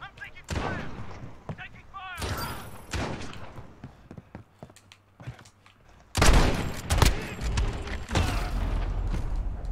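Bursts of gunfire in the Modern Warfare video game, loud volleys of rapid shots in several separate clusters, with metallic mechanical clicks and quieter gaps between them.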